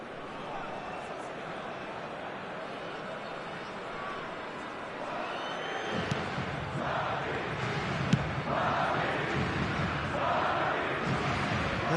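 Football stadium crowd roaring after a shot on goal, a dense, continuous wall of distant voices that swells and grows louder around the midpoint and stays elevated to the end.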